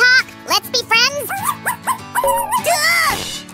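A small dog makes yips, whimpers and bow-wow sounds in rising, squeaky bursts, close and fairly loud. The calls come in a quick series, and the whiny pitch contours suggest that a person may be voicing them rather than a real dog.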